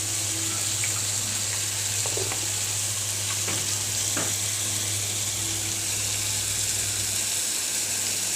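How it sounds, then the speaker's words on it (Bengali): Potatoes fry with spice paste in a pan for a shrimp curry, a constant close sizzle broken by several sharp scrapes and knocks of stirring. "এখন আলুটাকে ভালো করে কষাবো মশলাটার সাথে"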